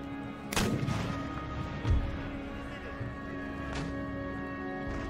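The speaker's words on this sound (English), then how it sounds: "But our gunners, oh, excellent shot!" Cannon fire from gunners in the Empire: Total War strategy game, a couple of sharp booming shots spaced a few seconds apart with a dull thud in between, over a steady battlefield ambience.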